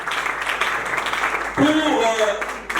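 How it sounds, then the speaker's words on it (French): Wedding guests applaud loudly for the bride and groom at a reception. A dense wash of clapping fills the first half, and someone speaks over the fading applause. "Je vais vous demander d'applaudir très fortement pour les mariés"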